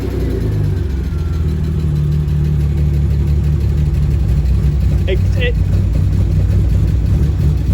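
A restored BMW E36 runs on a first drive, its engine a loud, steady rumble heard from inside the car throughout, with brief squeaks partway through.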